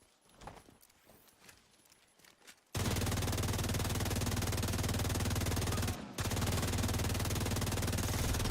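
Turret gunfire in The Division 2, a sudden sustained loud burst of rapid automatic fire that runs on steadily, briefly cuts out, then resumes just as loud after a quieter stretch of faint clatter.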